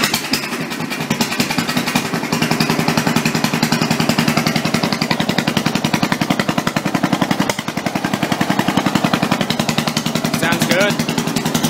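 A Briggs single-cylinder engine on an MTD off-road mower, fitted with an exhaust stack and rain cap, sputters and runs loudly, a steady rapid chugging that holds throughout with a brief dip partway, with no talking over it.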